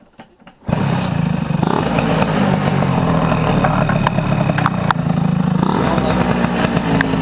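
A motorcycle fitted with an Ignitech DC-CDI-P programmable ignition fires up after a few quiet clicks and settles into a loud, steady, close running engine note.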